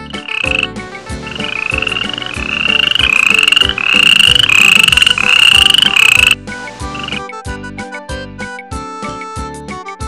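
Cartoon frog croaking in a children's alphabet animation, repeated croaks layered over bright musical tones, loud and close, with a backing melody continuing after the croaks stop.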